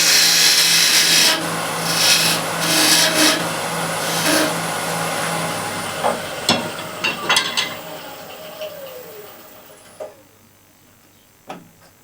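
A wooden lid's flange is roughed down by hand with a rasp or file, giving several scraping strokes that fade into a few sparse knocks and taps, followed by quiet.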